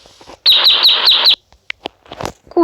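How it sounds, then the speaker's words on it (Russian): A chick gives five rapid, loud, high chirps in a row, followed by a few scattered fainter peeps. "Цыпленок."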